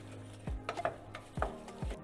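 A spoon stirs apple chutney with ground clove and red pepper flakes in a pot, giving a few soft scrapes and light clinks against the metal. The sounds are quiet, close and spaced apart, with no voices.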